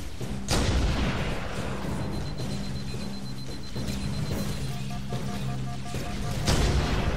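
Gunfire and heavy weapon blasts in Halo: Combat Evolved Anniversary, with sharp booms at the start and end over a continuous battle din, electronic tones and faint game voices.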